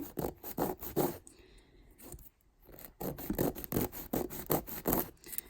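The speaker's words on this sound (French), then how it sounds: "je viens prendre ma lime et je viens donc limer tout ça" Nail file rasping across a polyacrylic gel nail, quick rhythmic back-and-forth strokes heard close, a short pause midway, then steady filing again.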